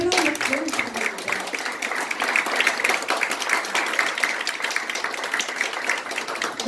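At an interfaith panel event, an audience claps in a steady, even patter of moderate loudness, with a brief voice at the very start.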